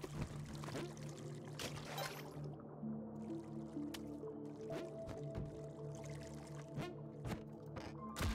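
Water pouring and splashing down over fire in the Spelunky 2 video game, a steady wet rush with drips and squishy splatters, mixed with game music and scattered clicks throughout.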